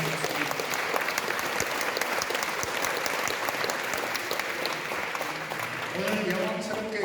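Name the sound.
audience applauding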